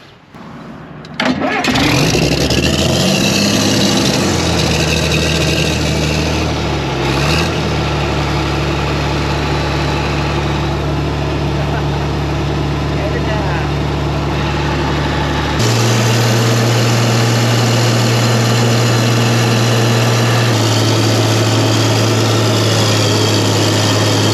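An engine turns over with a brief starter crank, then catches and settles into a steady, loud idle that shifts pitch slightly partway through.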